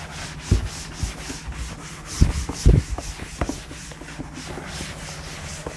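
A chalkboard or whiteboard being rubbed clean during a Class 10 science lesson, heard as bursts of scratchy rubbing strokes, with a cluster of louder swipes in the middle and no talking.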